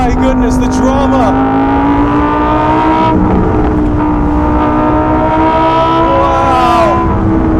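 A Lamborghini Huracan EVO RWD Spyder's engine roars loud and close through downshifts, with rising and falling revs, crackles and a steady drone, and a voice talking excitedly over it.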